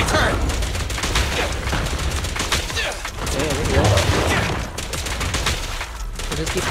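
Billy's guns in Zenless Zone Zero fire in rapid, sustained bursts, loud and close, a dense stream of gunshots throughout with a player's voice occasionally over it.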